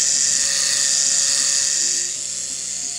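A tattoo machine fitted with a disposable cartridge needle grip runs with a steady, loud high-pitched buzz and a low motor hum that continues throughout, slightly quieter toward the end, with no talking.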